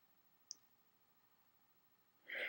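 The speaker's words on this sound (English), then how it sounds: "I'm going to go ahead and click finish." A single faint mouse click on a MacBook during software installation, sharp and brief in a quiet room, followed by a short rise of soft background noise at the end.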